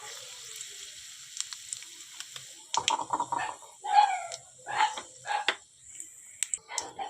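Tempering spices dropped into hot oil for a pumpkin and potato ghonto, crackling in short bursts of sizzle that rise and fall over several seconds, fairly close and moderately loud.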